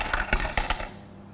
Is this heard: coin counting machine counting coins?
yes